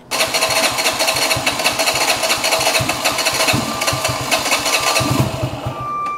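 An RPS Condor 150 motorcycle, a small-displacement bike, cranks and catches, a loud rapid rhythmic engine chatter that holds steady near the microphone with a brief stumble before settling into a fast idle, no voices.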